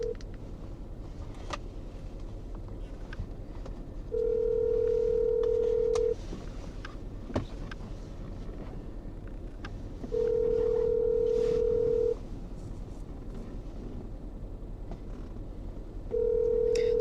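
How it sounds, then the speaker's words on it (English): Phone call to an individual property owner: three long steady ringback tones, each about two seconds, repeat at regular intervals over a low hum of background noise, with no voices. "I am going to make a phone call."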